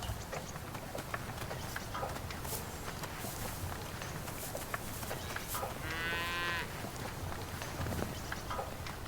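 Cattle low and moo outdoors on a winter farm, several animals calling over a steady bed of ambient noise, with one long drawn-out moo standing out in the middle.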